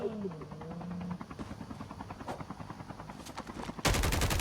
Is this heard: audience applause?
no